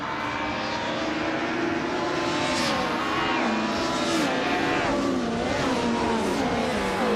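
A 1995 BMW M3 GTR Evo race car in a racing video game roars loudly and continuously, its engine note rising and falling through repeated gear changes as it accelerates, with no one talking.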